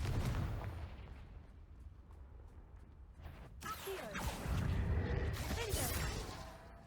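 A Confringo blasting spell goes off in the Hogwarts Legacy game, a loud burst followed by crashing, rumbling debris over continuous game ambience, with a voice speaking briefly before the blast.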